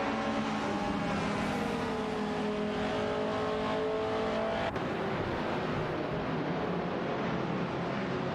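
Simulated race car engines from an AI racing video game, with cars such as a Shelby GT 350 and a Tavir Griffith 200 dueling, drone in steady high-pitched tones that shift as one fades and another takes over, loud and continuous without speech.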